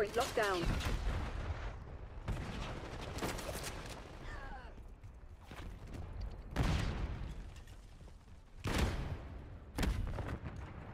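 Bursts of assault rifle fire in Black Ops 6 crack out in several loud, close volleys separated by pauses, with someone talking between them.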